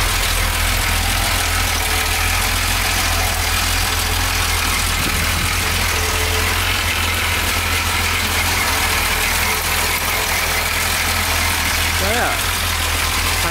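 A Jaguar XJ6 engine idles steadily while it builds oil pressure, a constant low rumble that holds unchanged from start to finish at close range.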